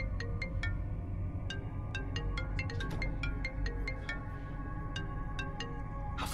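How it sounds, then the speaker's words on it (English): A phone ringtone rings upstairs in a house, a repeating melodic electronic tone in a steady rhythm, fairly faint over a low background hum. "phone is ringing upstairs."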